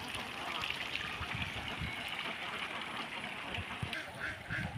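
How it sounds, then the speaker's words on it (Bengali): A flock of ducks at a farm raised on natural feed keeps up a dense, continuous chorus of quacks and honking calls, with water sounds faint underneath. "হাঁসগুলোর দেখতেই ভালো লাগে"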